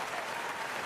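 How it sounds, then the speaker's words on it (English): A brief, even patter of clapping hands from a round of applause, steady and moderately quiet for under a second, with no voices. "I'm going to give myself a fucking round of applause"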